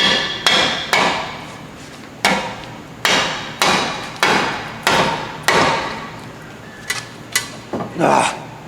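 Repeated hard metal strikes on a pickle fork wedged between the lower ball joint and knuckle of a 2008 Honda CR-V, about a dozen loud ringing blows in uneven bursts, close up with no talk.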